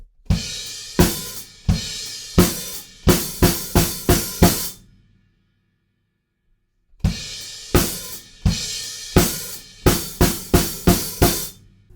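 A drum kit plays a chorus pattern, sharp rhythmic hits in quick clusters, loud and close, with a pause of several seconds between two bursts.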